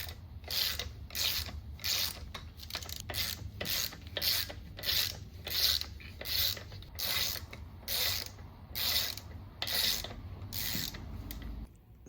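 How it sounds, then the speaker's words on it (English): An Icon hand ratchet clicks through repeated back-and-forth swings on a Chevy Bolt differential, each pass a rapid burst of pawl clicks in a steady rhythm, close-up against a low background hum. "So I've got to use a ratchet."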